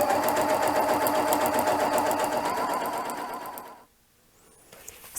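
A Janome sewing machine with an Ultra Glide foot runs steadily, stitching elastic onto fabric for a bowl cover with a fast, even whirr, then stops abruptly, leaving near silence.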